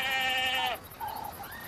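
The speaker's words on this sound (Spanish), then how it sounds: "¡Han oído la cabra!" A goat bleats once, a clear wavering cry close by, followed by a shorter, fainter second bleat in a quiet setting.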